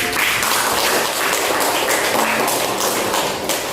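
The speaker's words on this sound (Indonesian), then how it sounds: "Tepuk tangan dulu." A classroom of students claps hands together in dense, steady applause that carries at an even loudness through the whole stretch, with no talk.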